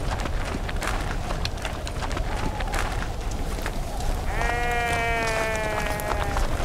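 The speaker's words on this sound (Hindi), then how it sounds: "भेड़ों को चीर फाड़ डाला" Sheep bleat in a short series of harmonic, wavering calls toward the end, rising over a steady, noisy outdoor background.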